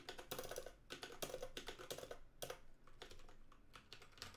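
Rapid typing on a 60% computer keyboard, a close, busy clatter of key presses in uneven bursts with brief pauses, no voices.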